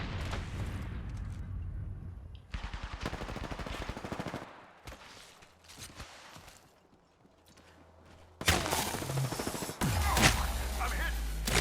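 Video game gunfire in GBO2, with bursts of rapid automatic shots in several bursts and quieter gaps between them, loud and close, ending in a dense, heavy barrage.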